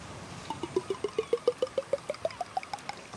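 A voice imitates cream being poured into a pan, in a Nusfjord kitchen, as a quick run of about fifteen evenly spaced glugging blips that rise steadily in pitch, close and fairly soft, with no other talk over it.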